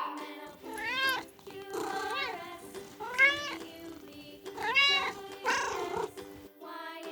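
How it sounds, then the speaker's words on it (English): A cat meows repeatedly, about five or six clear, drawn-out meows close up with short pauses between, over a faint steady background and no talk. "C for cat."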